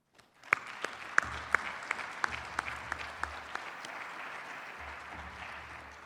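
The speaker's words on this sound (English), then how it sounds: "Would you give all of them a big round of applause for me?" A crowd applauds sponsors at a charity program: several sharp, distinct claps ring out first, then settle into a softer, even wash of applause that carries on steadily.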